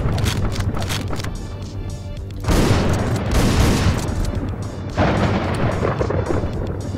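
Shotgun fire in Hotline Miami 2, heard as dense, loud bursts of blasts over a rumbling game soundtrack, with two heavy surges of rapid shots crowding the second half.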